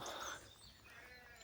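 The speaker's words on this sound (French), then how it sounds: "On entend les moutons au loin." Sheep bleating faintly in the distance near an old abandoned military barracks, a soft wavering call at the start fading into quiet outdoor background.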